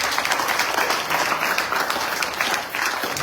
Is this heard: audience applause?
yes